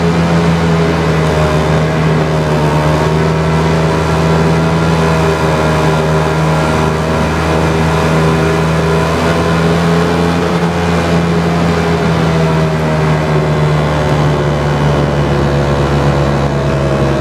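Superbikes in a drag race, including a KTM Duke 1290 and a Hayabusa, roar continuously and loudly at close range. The engine drone is sustained and steady throughout, with no speech.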